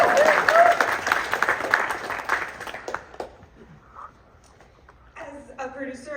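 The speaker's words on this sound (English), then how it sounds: "Let's give Lucia a round of applause after this." Audience at the world premiere of the horror film When Evil Lurks applauds for Lucia, with dense, loud clapping for about three seconds that thins and fades before a voice starts speaking.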